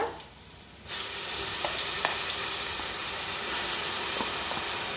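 Onions frying in a pan until golden brown, a dense, close sizzle that starts suddenly and then holds steady, with occasional small pops and no talking.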